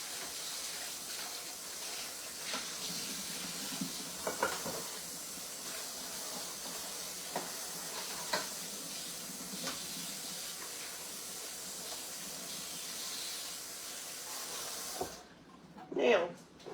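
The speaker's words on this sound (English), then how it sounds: "I'm going to rinse this bowl out." Running water from a kitchen tap splashes steadily into a sink as a bowl with spilled egg is rinsed, a broad constant hiss with occasional knocks, then the flow stops near the end with a brief clatter.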